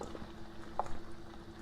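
A pot of water boils on a stove while a Mexican-style squash dish is being cooked, giving off a soft, steady bubbling and faint liquid patter. A single louder bubble stands out briefly near the middle.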